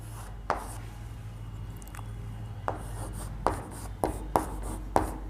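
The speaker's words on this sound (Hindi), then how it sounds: "चलिए आगे नेक्स्ट पॉइंट लिखते हैं" Notes being written on a board or paper during a Class 10 chemistry lesson: intermittent scratchy strokes and sharp taps, several close together near the end, over a steady low hum with no talking.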